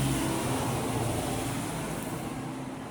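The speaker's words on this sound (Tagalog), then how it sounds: "Maingay po dito guys kasi maraming sasakyan na dumadaan." Steady, loud roar of heavy road traffic with many vehicles passing continuously on a street below a rooftop satellite dish, a broad rumbling wash with no distinct individual pass-bys and no talking.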